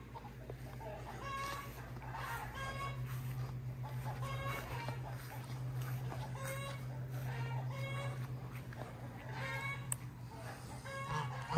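A goose near its nest gives repeated harmonic calls in short bursts, at moderate distance over a steady low hum of farmyard background.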